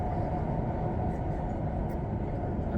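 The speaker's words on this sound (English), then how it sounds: "Super smooth train, just a few bumps here and there." A passenger train on the line from Kuala Lumpur to Krabi running at speed, a steady low rumble and roar heard from inside the carriage, with faint clicks over the top and no talking.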